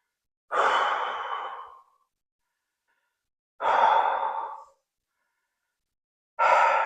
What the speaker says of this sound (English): Take some long, deep breaths.